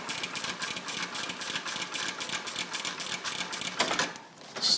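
Sewing machine stitching a straight line of reinforcement on a tarp tie-out point, a rapid steady mechanical clatter of needle strokes that pauses briefly near the end.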